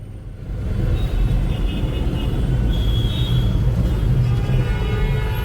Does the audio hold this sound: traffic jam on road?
yes